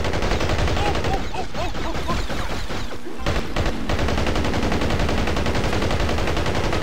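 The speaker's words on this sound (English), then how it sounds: "Oh, I'm getting shot up from the side too." Continuous rapid gunfire in the Battlefield Heroes video game, loud and dense throughout, with bursts overlapping each other and a brief dip midway.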